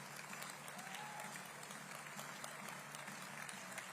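Conference audience at a Liberal Democrats party conference applauding an award presentation, distant steady clapping from a large hall crowd, sustained and fairly faint, with no voices.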